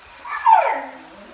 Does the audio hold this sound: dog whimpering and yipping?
yes